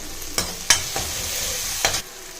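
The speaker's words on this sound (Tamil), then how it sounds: "இதில் இந்த பூண்டு வாசனை போகிற வரைக்கும் வதக்கணும் ஃப்ரெண்ட்ஸ்" Garlic and curry leaves sauté in a pan, a steady close sizzle broken by a few sharp scraping stirs of the spatula, with no voices.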